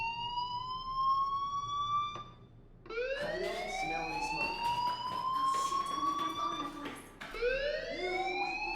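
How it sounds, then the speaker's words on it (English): Fire alarm ringing in the video game Life is Strange: a loud rising electronic wail that stops, then returns in repeated sweeping siren cycles that sound alone and close. "do you hear that fire alarm?"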